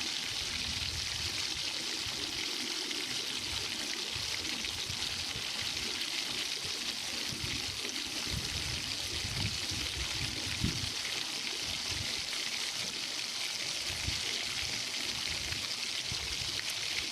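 Water pours and splashes steadily while shrimp are rinsed in clean water, a continuous hissing wash with occasional low sloshes, close and even in level throughout.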